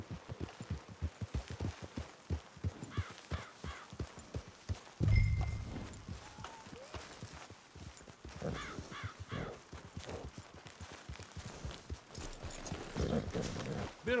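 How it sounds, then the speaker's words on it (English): Horse hooves clip-clop in a steady, close rhythm while riding through a camp in the Red Dead Online video game, with crows cawing nearby and a brief low thump partway through. "Get your horse."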